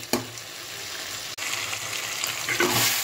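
Fish masala with fried potatoes sizzling and frying in a pan, a steady loud hiss throughout with a brief break and occasional stirring scrapes.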